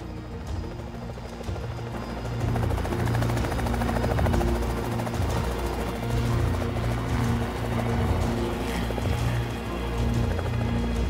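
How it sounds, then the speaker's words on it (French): A loud helicopter throbs continuously, its rotor beat pulsing steadily and growing slightly louder after the first couple of seconds. "l'hélicoptère vient de décoller"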